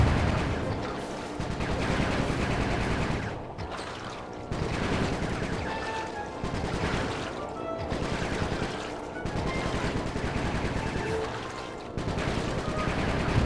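Gunfire in the video game Sly 3: Honor Among Thieves, continuous rapid shooting in repeated long bursts over game music and effects, fairly quiet overall.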